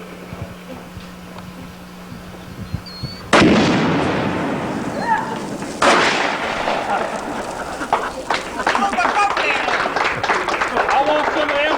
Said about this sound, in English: I'm going to shoot the bucket, throw the Coke can in the air, and possibly shoot it with a shotgun